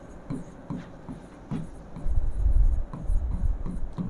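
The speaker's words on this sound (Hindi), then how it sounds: "तो हम तीसरा पॉइंट लिख लेंगे" Marker or chalk strokes on a classroom board during a Hindi chemistry lesson on the mole concept, a run of short scratchy writing bursts with some soft low rumble, close and moderately loud, no voices.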